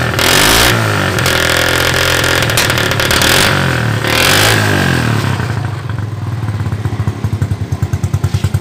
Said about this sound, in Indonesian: Ya, langsung sekali hengkol langsung hidup. Langsung sekali start langsung hidup.